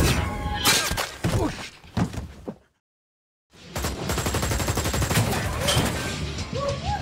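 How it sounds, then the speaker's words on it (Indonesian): Several sharp gunshots crack in quick succession amid clattering impacts, then brief silence before a dense burst of rapid gunfire and debris. "Saat Sungju sedang membidik Jian, Min Hye terlebih dahulu menembaknya."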